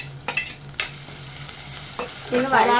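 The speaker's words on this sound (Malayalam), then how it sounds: "പച്ചമുളക് കണ്ട കൊച്ചുള്ളി അരിഞ്ഞത് ഇതെല്ലാം ഇട്ട് കൊടുക്കും" Chopped shallots and green chillies frying in a pan for a sardine curry, with a steady sizzle, a few sharp scrapes of stirring and a louder burst of crackling at the end.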